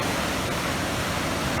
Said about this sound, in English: This is Paiute Creek right here.